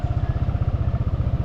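A motorcycle engine idles close by with a rapid, steady low putter, loud and unbroken, with no talking.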